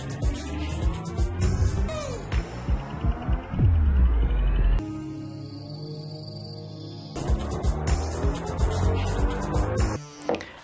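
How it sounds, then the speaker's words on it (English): Recorded engine and exhaust notes from a classic MINI play back through a car's audio, shifting between revving tones and a sustained drone across several distinct segments, loud and processed, with no talking. "recorded their engine and exhaust notes, and incorporated those sounds to be played during some of the experiences"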